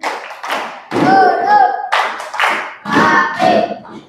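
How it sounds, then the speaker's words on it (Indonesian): A classroom of students does a patterned clapping ice-breaker in a teaching session, bursts of group claps and slaps in a rhythmic sequence, close and loud, with children's voices chanting along between the claps. "Tepuk duduk rapi"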